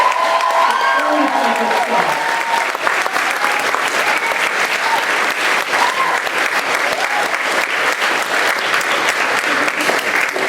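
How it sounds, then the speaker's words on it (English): A school leavers' day audience gives a big round of applause, a loud, continuous wash of clapping from many people that stays full and steady from start to finish. "So now just a big round of applause"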